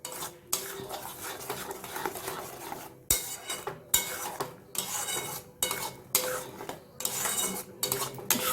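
Potatoes seasoned with salt, turmeric, cumin and coriander powder being stir-fried in a pan for a hotel-style potato curry, with repeated scraping and clinking strokes of a metal spatula against the pot, close and busy, with brief pauses between strokes.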